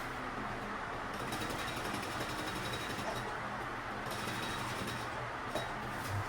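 A sewing machine stitches the side seam of a teacher's fabric bag, its steady motor whir running throughout with brief bursts of faster stitching rising and falling.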